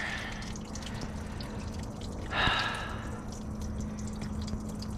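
Water drips and trickles quietly out of a waterlogged box nearby, with one brief louder splash in the middle over a faint steady background hum.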